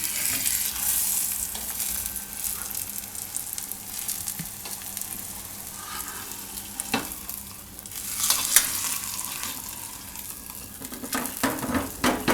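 Bottle gourd paratha roasting on a hot iron griddle over low to medium gas, giving a continuous soft sizzle with occasional scraping and flipping clinks, close and steady, no talking.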